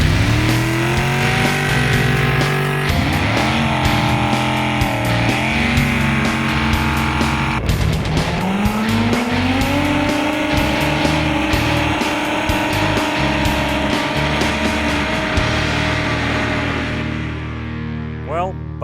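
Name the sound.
pulling tractors revving engines and spinning wheels on track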